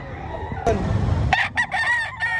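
A rooster crows loudly and close by at a poultry expo in a public market, a strained rising call followed by a few shorter harmonic bursts, over low background rumble.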